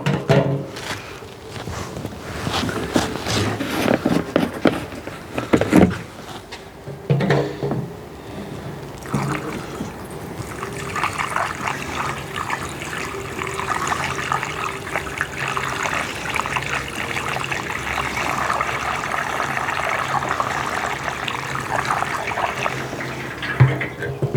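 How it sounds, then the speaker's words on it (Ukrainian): Fuel pouring into a Kraft&Dele KD194 inverter generator tank, a steady liquid trickle and gurgle running continuously at close range, with a few louder knocks and handling sounds early on. "вливаємо паливо, ставимо олієчку."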